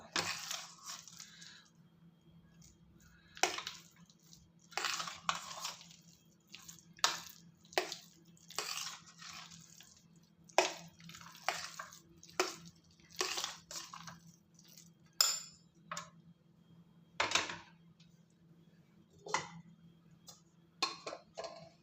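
Black pepper and cumin being lightly pounded, a series of soft, irregular close taps and crunches separated by quiet pauses, with a low steady hum underneath.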